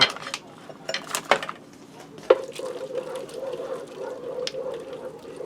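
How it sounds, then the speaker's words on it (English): Pasta with sausage gets stirred in the pot of a Ninja Speedi cooker, with several sharp clinks and scrapes of a utensil against the pot near the start, then a softer steady stir with a faint hum beneath. "And I'm going to give my pasta a stir."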